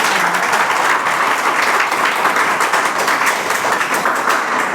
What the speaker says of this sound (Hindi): तो भैया तालियां तो बजनी चाहिए ना।